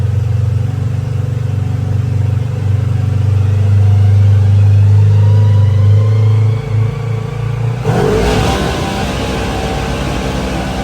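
A Segway Villain engine, warmed up and running on a dyno, holds a loud, steady drone that climbs in pitch, then abruptly shifts to a rougher, noisier roar near the end, with no voices.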